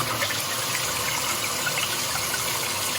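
Cold water pours over a glass bottle being cut, a steady, close, broadband splashing gush that runs unbroken throughout.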